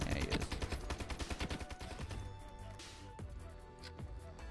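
MSBS rifle gunfire in a first-person shooter, with a fast, even burst of automatic shots up close that gives way to a few scattered shots amid game noise.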